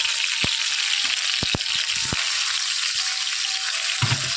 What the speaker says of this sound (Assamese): দালিখিনি অলপ সময় ভাজি ল'ম